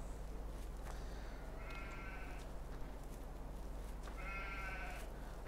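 Sheep bleat twice in the farming game Landwirtschafts-Simulator 15, with distinct separate calls over a steady low hum and no talking.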